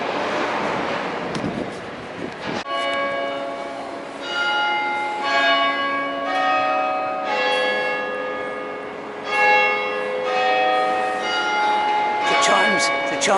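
Church bells chiming in central London, a series of loud, ringing strikes with long overlapping decays that follow each other at a slow, steady pace, with wind noise over the microphone at the start.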